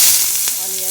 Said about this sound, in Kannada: ಆನಿಯನ್ ಲೈಟಾಗಿ ಫ್ರೈ ಮಾಡ್ತೀನಿ ಅಷ್ಟೇ